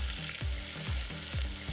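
Blueberries tipped into simmering olive oil infused with rosemary give a continuous close sizzle and bubbling, marked by a few soft rhythmic stirring thumps roughly every half second.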